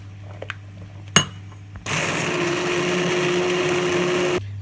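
A blender whirs steadily for about two and a half seconds, puréeing nettle soup a second time, loud and continuous after a few small clinks, then cutting off abruptly.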